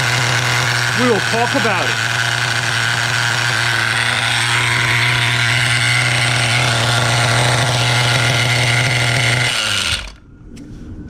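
Schumacher Menace 21 nitro RC truck engine idling, a steady loud buzzing drone held close for about ten seconds before it cuts off abruptly, with a voice exclaiming briefly over it.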